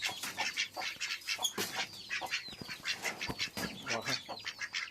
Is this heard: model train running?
no